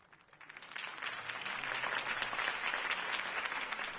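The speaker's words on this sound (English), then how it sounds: "If only Mr. Wayne, my campaign's largest backer, could have heard that applause" Crowd applause in the Batman Telltale Series video game, a broad, steady wash of clapping that swells over the first second and then holds loud and even to the end, with no talk over it.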